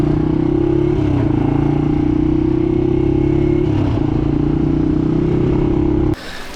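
Motorcycle engine running steadily and loudly nearby, a continuous rumble with some clatter for about six seconds, then cutting off abruptly near the end.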